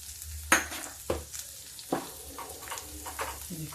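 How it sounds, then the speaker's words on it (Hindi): Onion frying in a pan for an eggplant and chana dal dish, a low steady sizzle broken by a few sharp stirring scrapes and knocks, close and fairly quiet. "जब तक मेरा प्याज भून रहा"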